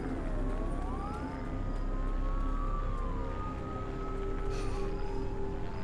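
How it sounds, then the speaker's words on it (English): Police sirens wail in a TV drama scene, several overlapping tones sweeping up and down at moderate distance over a steady low rumble. "Sirens. Sirens!"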